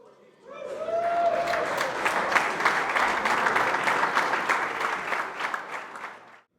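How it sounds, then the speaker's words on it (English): A crowd at a baseball fantasy camp breaks into loud, sustained applause lasting several seconds, with a brief voice rising at the start before the clapping fades out. "noise, please, for the Honorable Bobby Wine"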